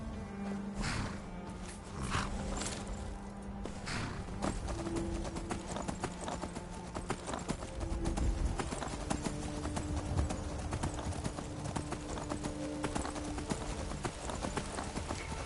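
Horse hooves clip-clopping in the video game Skyrim, a steady rhythmic trot heard close and fairly loud over game music and ambient sound for the whole stretch.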